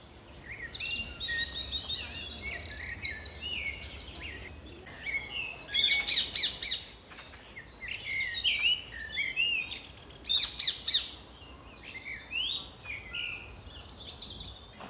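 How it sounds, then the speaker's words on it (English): Several birds chirp and sing in bright, repeated phrases outdoors in a park on Hampstead Heath, a lively chorus over a faint ambient hush. "just listen to the birds again."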